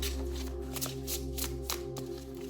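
Tarot cards being shuffled by hand, soft quick riffling and sliding bursts in a short close run over a steady low hum, with no speech.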